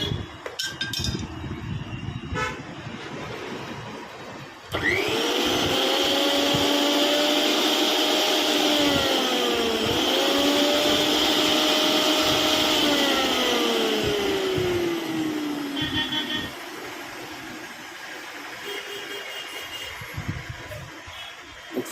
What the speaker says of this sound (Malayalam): മിക്സി ക്ലിയറായിട്ട് റൺ ചെയ്യുന്നുണ്ട്.